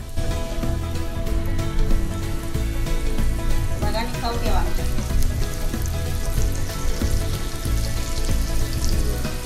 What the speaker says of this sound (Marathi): आता वरती मासे सोडता.